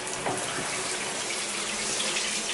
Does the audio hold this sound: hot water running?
yes